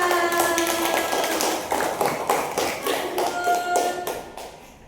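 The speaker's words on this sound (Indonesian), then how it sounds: "tepuk tangan untuk kita semua" Pupils in an elementary school classroom clap together in a short burst of rhythmic applause, loud and close, with a few voices mixed in before it fades out.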